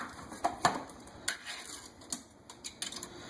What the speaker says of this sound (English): first thing we want to do is go ahead and drain the green beans